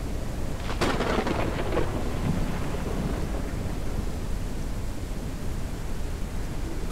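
Thunderstorm raging around a blimp in the sky survival game Forever Skies: a sharp crack of thunder early on gives way to a steady, loud wash of rain and wind noise that fills the rest of the clip.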